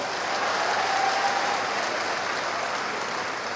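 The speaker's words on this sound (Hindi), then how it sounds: "मेरी बात से सहमत हो गए तो एक बार ताली बजा के बताना चाहेंगे।" Sustained audience applause at an event at Madhav Institute of Technology and Science in Gwalior, a steady wash of many hands clapping at even loudness, heard from a distance.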